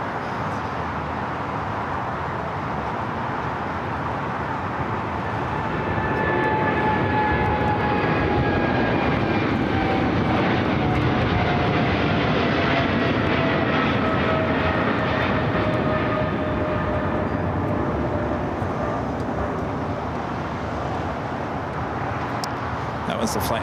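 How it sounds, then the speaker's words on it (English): Aerologic Boeing 777 freighter jet at LAX, a steady loud engine roar that swells and holds with shifting whining tones, with a voice talking over it. "Aerologic 777 freighter"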